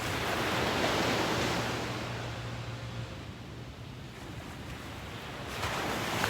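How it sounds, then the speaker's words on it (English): Calm, slow ocean waves wash onto a quiet beach on a morning with few people around, a steady broad surf hiss that swells and eases, with a faint low hum partway through and no talking. "I love the waves this morning too, Joe."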